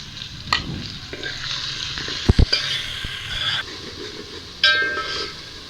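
Chopped onions with ginger garlic paste sizzle and fry in a pan, with steady crackling under repeated scraping and stirring strokes, a few sharp clinks of the spoon against the pan, close up and with no voices.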